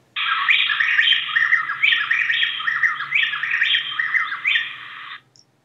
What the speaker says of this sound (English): here's an example of two birds singing a duet